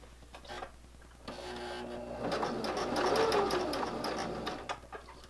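Sewing machine stitching fabric with a 1/4 inch foot: after a few faint clicks, a motor whirs up and runs steadily for several seconds, quiet and fairly close, with light ticking near the end.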